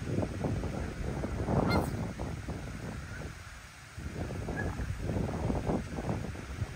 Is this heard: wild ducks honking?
yes